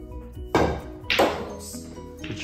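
Snooker balls striking on a table, with two sharp clacks about half a second apart followed by a softer knock, close and clear with no talk.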